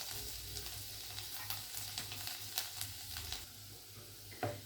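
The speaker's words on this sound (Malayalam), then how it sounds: "ജീരകം ചൂടായി കഴിഞ്ഞിട്ട് നമ്മൾ എടുത്ത് വെച്ചിരിക്കുന്ന വെളുത്തുള്ളി അരിഞ്ഞിട്ട് കൊടുക്കാം" Cumin and chopped garlic sizzle quietly in hot oil for Indian-style masala macaroni pasta. A soft, steady hiss runs under a few light clicks and scrapes from stirring.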